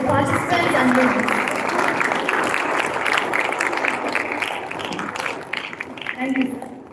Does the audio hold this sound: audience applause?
yes